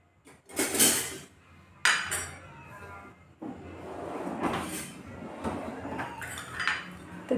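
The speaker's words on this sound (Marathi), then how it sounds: "चमच्याने अशी कुटून घेऊ" A metal spoon clanks and scrapes against a pot while mashing soft, well-cooked dal, in irregular knocks and scraping strokes at close range.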